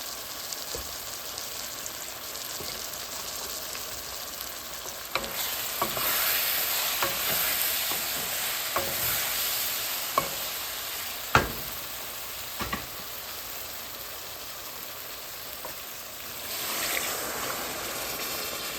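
Fried eggplant curry with chili powder sizzles softly in a pan, with a spoon scraping and stirring at irregular intervals and a few sharper knocks against the pan.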